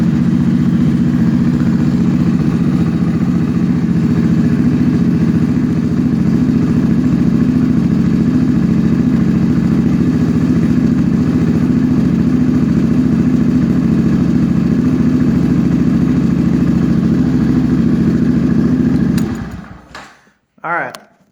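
A Honda Grom motorcycle engine running lean idles loud and steady right up close, a low throbbing rumble that holds for about twenty seconds before it cuts out to a few clunks.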